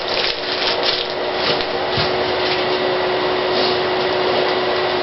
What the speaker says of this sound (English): just as I got my blower running